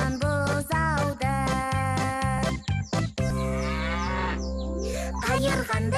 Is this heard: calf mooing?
yes